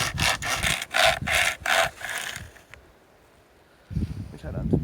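A small handheld chainsaw cuts through wood aboard a sailing boat in the Bahamas, giving about five loud, rhythmic rasping strokes before falling quiet, with low thumps and handling noise at the end.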